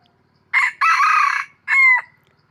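A wild rooster crows loudly and close by, one long cock-a-doodle-doo call followed by a shorter second crow, with no other sound around it.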